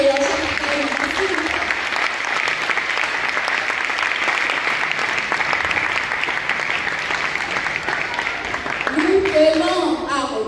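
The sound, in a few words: audience applause at church youth event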